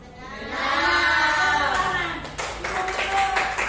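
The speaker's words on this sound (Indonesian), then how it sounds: "Tepuk tangan." Classroom audience breaks into applause, a brief swell of voices giving way to scattered, quick hand claps toward the end.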